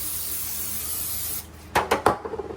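A short hissing spray of cooking spray onto a baking dish bursts a few times in quick succession after a soft rustle, close and fairly quiet.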